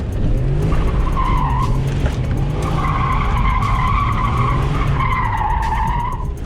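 A BMW E34 530i drift car skids through a slow first-gear drift, its tires squealing in long wavering tones over a loud, constant engine roar heard from inside, with no talking.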